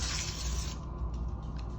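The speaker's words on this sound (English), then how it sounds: "it says to shake really good and liberally spray" Foaming coil cleaner aerosol sprayed liberally onto the coil of a frozen walk-in cooler: a steady, close hiss for most of the first second, then softer sputtering over a low mechanical hum.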